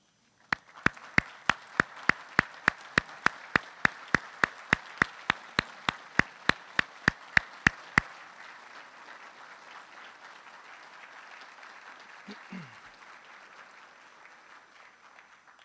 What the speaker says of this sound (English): I'd like all the officers in uniform to stand up and give a round of applause to their family